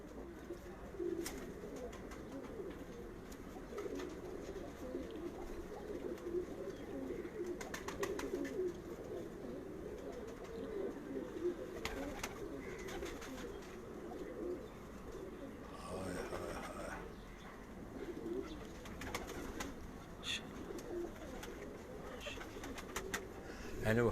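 Pigeons coo in a loft, soft repeated low throaty calls over a murmuring flock, with occasional wing flutters and clicks throughout.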